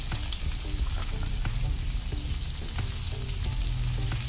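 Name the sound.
bacon and onion frying in a pan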